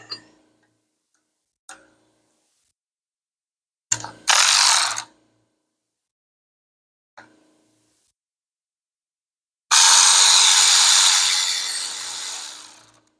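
Ratchet working on high-pressure fuel pump bolts: several short isolated clicks, then two bursts of rapid ratcheting, one about a second long and a longer one near the end, close and crisp against silence.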